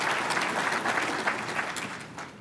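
An audience at a mayor's State of the City address in Akron breaks into brief, even applause, a short burst of many hands clapping together that fades slightly toward the end.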